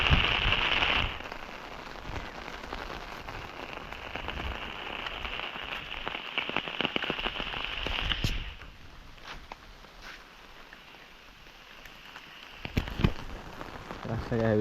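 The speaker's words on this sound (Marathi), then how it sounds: "सकाळपासून लागतोय पाऊस." Monsoon rain falling steadily in rural Konkan, a dense close patter on surfaces with scattered sharper drips, easing somewhat midway, with no voices.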